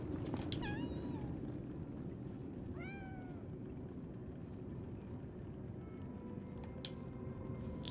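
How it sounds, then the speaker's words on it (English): A cat meows repeatedly in the video game Lies of P, a couple of clear rising-falling calls near the start and again around three seconds, over a steady ambient drone. "Cat."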